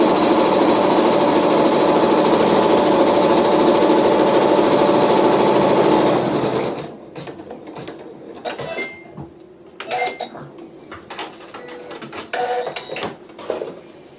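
A sewing machine runs fast and continuously while stitching down fabric prairie points, loud and close, then stops about halfway through, leaving scattered clicks and handling noises.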